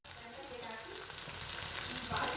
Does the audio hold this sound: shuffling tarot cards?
no